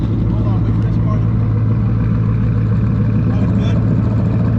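A car passes along a small rural road, its engine drone steady and fairly loud throughout, with a faint hum underneath and no voices.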